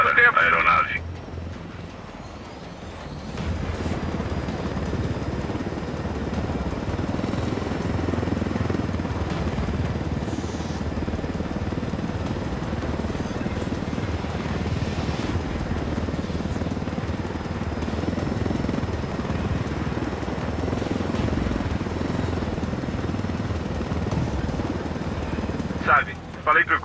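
A helicopter flies in Ghost Recon Wildlands, its steady rotor drone and engine rumble running continuously under spoken dialogue for most of the stretch.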